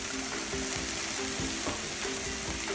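Mushrooms and Brussels sprouts simmering on low heat in a pan, a dense continuous close sizzle and crackle with faint rhythmic knocks underneath, no talking.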